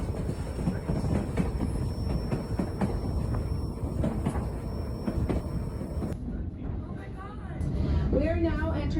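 A train in Alaska rumbles steadily along the rails, heard from the back porch of the last car, with broadband rolling noise and faint clatter, nearby and continuous, with a high squeal appearing near the end.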